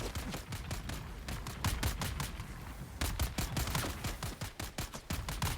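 Rapid rifle fire from several shooters hits a shield in the video game Dune Awakening. The sharp cracks come in dense, overlapping bursts that run continuously, moderately loud and without talk.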